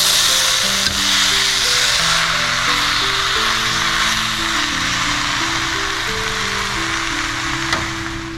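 Bean sprouts, water chestnuts and tofu frying for vegan yakisoba, a steady loud sizzle running throughout with a faint background hum and an occasional soft clack of utensils.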